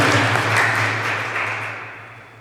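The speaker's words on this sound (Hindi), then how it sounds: "सब तालियां बजा के स्वागत कर दें" Audience clapping at a religious discourse gathering to welcome a mother, son and daughter as guests: a dense, steady wash of many hands close by that slowly fades toward the end, with no talking.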